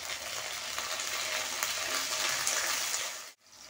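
Tomatoes hit a pan of sautéed onions and bay leaves, sizzling loudly and steadily with a bright frying hiss that drops away abruptly near the end.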